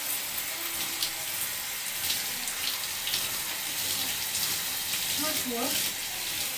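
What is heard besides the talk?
running water rinsing hair dye off hair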